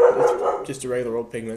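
A dog barks several times indoors, close and loud, mixed in with a person talking during a resin project.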